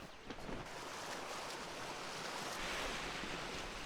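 A waterfall in the video game Kingdoms of Amalur gives a steady, full rushing roar of falling water that stays constant and close throughout, with no voices.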